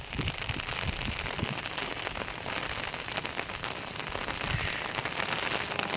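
Light rain falls steadily on surfaces nearby, a dense, even patter of drops with occasional sharper ticks throughout, and no speech.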